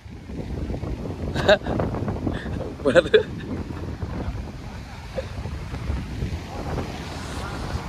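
Sea waves wash steadily against the shore in Kerala, blended with strong wind buffeting the microphone and a few brief louder surges.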